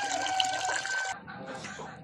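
Medicated water is poured into a container for chickens, a close splashing stream that runs about a second and then stops. Faint bird sounds continue after it.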